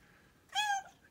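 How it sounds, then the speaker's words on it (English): A cat gives a single short, clear meow close to the microphone, rising and falling over about a third of a second against a quiet background. "He's a friendly kitty cat."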